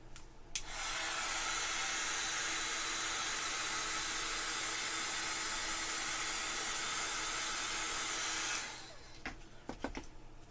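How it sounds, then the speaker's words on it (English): A hair dryer blows on freshly made Christmas craft work, a loud steady whoosh held for about eight seconds and then switched off, followed by a few small clicks and handling noises. "Actually, I'm going to dry these in between because I want to go a little bit higher"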